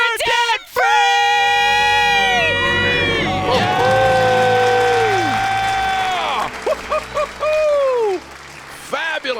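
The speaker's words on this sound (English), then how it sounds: "Let's hear a debt-free scream." A young family, the parents 34 years old, lets out a loud celebratory debt-free scream, with sustained shouting and cheering from several voices close by. The yelling rises and falls for several seconds, then breaks into shorter whoops and excited cries.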